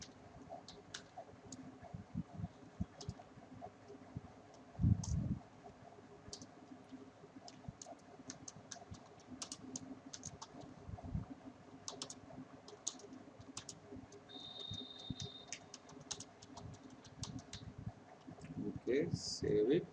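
Rapid clicking of a computer keyboard as HTML code is typed in the Eclipse editor, with steady quiet keystrokes and occasional louder taps over a low background hum.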